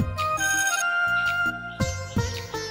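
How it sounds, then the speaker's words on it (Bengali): A phone ringtone signals an incoming call, playing a bright repeating melodic tone in clear bursts for a few seconds with no voices. "দাঁড়াও, একটু বাইরে থেকে কল আসছে আমার।"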